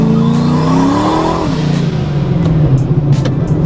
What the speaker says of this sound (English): what you saw there was literally just me flooring it in first gear